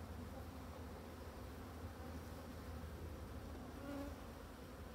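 A colony of hybrid honeybees hums in a dense, steady buzz that holds throughout, close and continuous, with a slight swell near the end and no voices.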